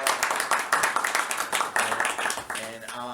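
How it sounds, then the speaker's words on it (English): Seminar attendees at a gaming convention give a round of applause, with brisk, close clapping from many hands as voices talk underneath. "So let's give them all a big round of applause."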